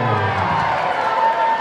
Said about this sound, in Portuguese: Vamos aplaudir, galera, vamos aplaudir.